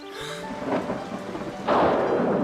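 In a children's TV story, a thunderstorm breaks with a deep rumble of thunder and then a loud rush of heavy rain, with no talking.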